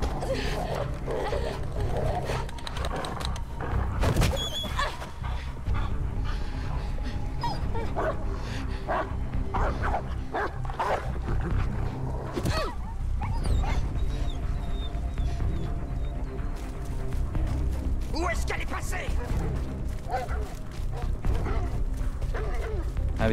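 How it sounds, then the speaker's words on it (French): Dog fighting and whimpering in the video game Beyond: Two Souls, repeated barks, yips and whines over continuous scuffling, close and busy throughout. "le baston avec le chien"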